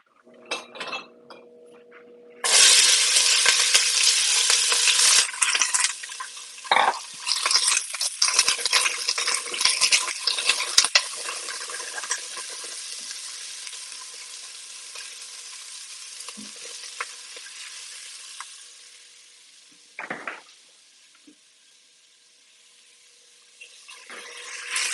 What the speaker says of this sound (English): I'm going to cook my onion and ginger with a spatula.